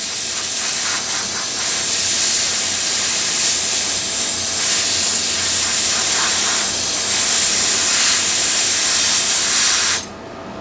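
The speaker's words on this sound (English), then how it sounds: "Hit it with some compressed air" Compressed air sprays steadily onto a washing machine part from an LG WT1101CW, a loud continuous close hiss for about ten seconds that cuts off abruptly near the end.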